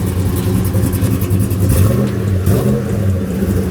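A loud Chevrolet TrailBlazer SS engine idles steadily with a rough, choppy rhythmic cam lope, thick low rumble throughout.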